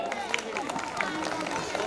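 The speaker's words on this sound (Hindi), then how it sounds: "सामने जोरदार तालियां हो जाए।" At a school Olympiad prize distribution ceremony, an audience claps for a medal recipient in a brisk, dense burst of applause, with crowd murmur mixed in.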